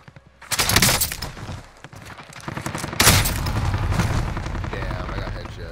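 Gunfire erupts in the Call of Duty Warzone video game, two sharp bursts of rapid shots about two seconds apart, followed by a sustained rattle of continuing fire and ambient battle noise.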